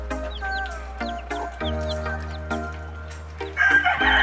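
Rhode Island cross chickens cluck repeatedly while a rooster crows, sounding close over a steady low hum, with a burst of louder squawking near the end.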